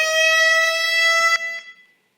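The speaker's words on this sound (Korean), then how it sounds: "사이렌 소리가 잘 들리나요?" Fire alarm siren sounds during a sprinkler alarm valve inspection as part of a training demonstration. The tone is steady, loud and strongly harmonic, holding for about a second and a half before cutting off and trailing away into silence.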